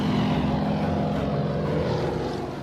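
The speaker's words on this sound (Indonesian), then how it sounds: "Kemudian dari kejauhan terlihat sebuah pesawat" A propeller airplane drones loudly and steadily overhead in the film Waterworld, a continuous engine roar filling the moment with no voices.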